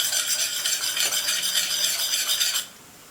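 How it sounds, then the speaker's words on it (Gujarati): Pearl millet flour being stirred in a pan for a porridge-like drink, a steady, close, dry scraping and rustling that runs without a break for about two and a half seconds and then stops abruptly, leaving near silence. "તો અહીંયા આપણે લોટ ઉમેરી દઈએ અને માત્ર થોડી વાર માટે હલાવવાનું છે"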